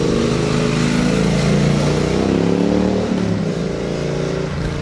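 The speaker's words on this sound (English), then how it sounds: "the exhaust note is lovely" A Triumph Street Twin motorcycle engine runs loud and close, a throaty, steady exhaust note with a slight rise and dip in revs, heard alone without talking.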